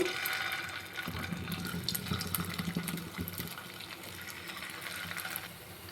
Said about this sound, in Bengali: এবার মিষ্টিগুলোকে ভেজে নিব।